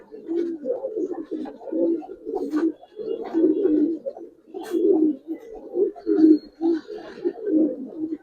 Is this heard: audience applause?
no